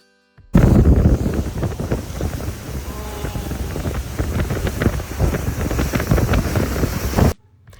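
A cruise boat's engine rumbles steadily on the water near Mackinac Island, Michigan, while wind buffets the microphone, loud and continuous throughout.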